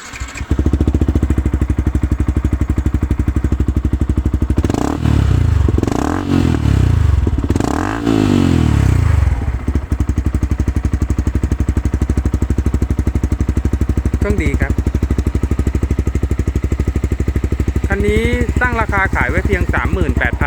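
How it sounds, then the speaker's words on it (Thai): A 2016 Yamaha YZF-R15 motorcycle engine idles loudly and steadily, with several bursts of revving in the middle and a couple more near the end. "ฟังเสียงเครื่องครับ"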